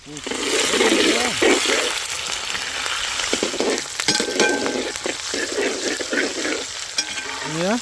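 Loud, steady sizzling of onions frying in hot oil, close up, with occasional stirring scrapes throughout.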